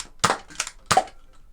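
A Nerf Elite 2.0 Prospect QS-4 blaster fired quickly, three sharp snapping shots in quick, slightly uneven succession, close and clear against near silence.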